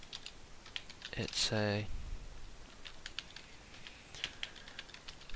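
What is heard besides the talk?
typing on a computer keyboard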